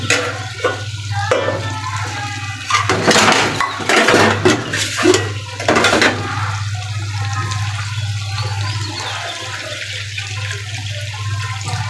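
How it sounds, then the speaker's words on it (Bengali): Water is poured into a pan on the stove to make broth for cooking dal, a gushing splash of several seconds with a few metallic clinks of cookware around it. "এখন এটা ঝোলের পানি দিয়ে দিব আমি।"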